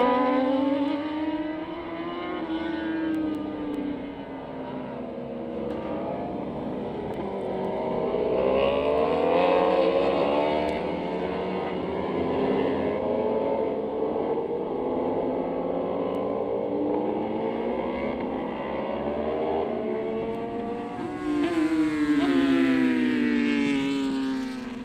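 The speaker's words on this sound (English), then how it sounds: "So this is the warm-up lap for the Superbikes." Superbikes including a Kawasaki and a BMW on a warm-up lap at Batangas Racing Circuit, engines droning and rising and falling in pitch as several machines pass at a distance, continuous and moderately loud with no speech.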